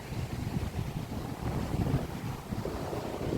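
Steady wind buffets the microphone over a low, rolling wash of Bay of Bengal waves at Kalpakkam, Tamil Nadu, continuous with no voices.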